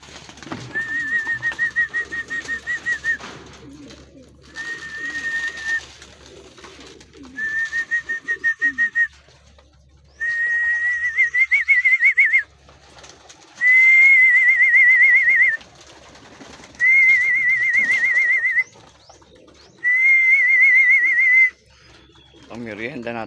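Racing pigeons coo before a derby in Pilar, Sorsogon, in a series of loud, close, repeated calls separated by short pauses.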